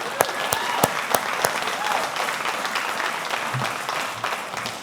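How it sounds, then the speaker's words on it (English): An audience applauds all the speakers at a summit, dense sustained clapping with a few louder close hand claps standing out early, holding steady for several seconds with faint voices underneath. "let's give all our speakers a round of applause"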